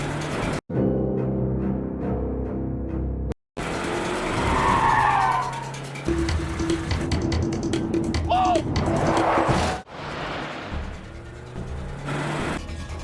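Car chase scene from a film with tires skidding and squealing over roaring engines, loud and close, with brief cuts of silence between shots and some dialogue or voices mixed in.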